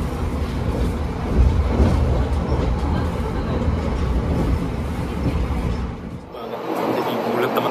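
KA Gajayana executive train running through Minggiran station at around 105 km/h, a steady loud rumble and rattle of the carriages with a brief dip near the end before the noise resumes.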